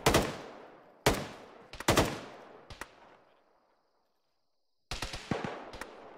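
Gunfire with tracers in a military video game comes as several sharp, loud bursts with echoing tails. A pause of near silence falls before a final rapid volley.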